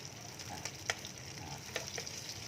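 Grouper fish frying in hot oil gives a soft, constant sizzle with a few faint pops and crackles, heard alone and fairly quiet.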